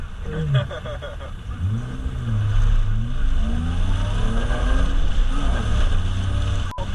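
Engine of a freshly built Volvo drift car on a wet lap, revving up and down in rising and falling sweeps, loud and close, with a rumbling drone and the tone climbing as it accelerates.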